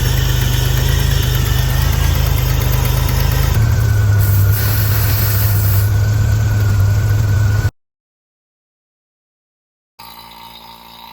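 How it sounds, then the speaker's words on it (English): A car engine on a G-body car runs at a steady, loud idle with a deep hum. The pitch steps up partway through, then the sound cuts to silence before faint noise returns. "we're gonna start up the car and we're gonna get everything good"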